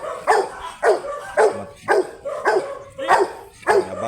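A male Rottweiler barks repeatedly at a steady pace, about seven deep barks roughly half a second apart, close by.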